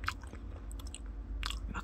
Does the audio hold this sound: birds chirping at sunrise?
no